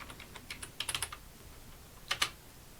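A password is typed on a computer keyboard at a Linux desktop. Quiet, quick key clicks come in two short bursts with a pause between them.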